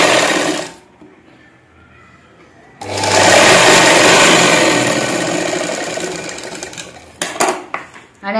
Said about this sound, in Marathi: आणि अशी शिलाई मारून